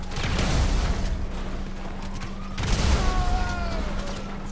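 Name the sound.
grenade explosions in Grand Theft Auto V video game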